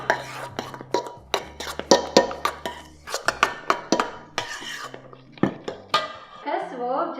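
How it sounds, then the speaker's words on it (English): A spoon stirs chopped ginger into vegan cream in a bowl, giving a quick run of close, bright clinks and scrapes against the dish, with a voice talking between them. "I'm just going to stir in a 1/4 cup of chopped naked"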